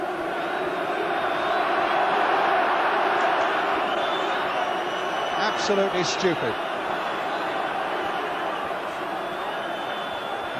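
Football crowd at Newcastle jeering and roaring at Chris Waddle as he waits to take a corner in a 1988 match, a dense sustained stadium din with shouts rising, under a commentator talking.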